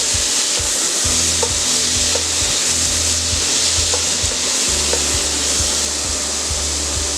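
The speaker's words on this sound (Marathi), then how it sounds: "चांगलं परतून घेऊया." Onion and tomato sautéed for tomato chutney in a pan over medium heat: loud, continuous sizzle with a steady rumbling scrape of the spoon and occasional light taps.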